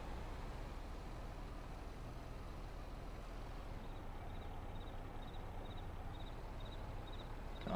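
A small tractor engine on a homestead gives a steady, close, low rumbling drone that holds evenly throughout, with no talk over it.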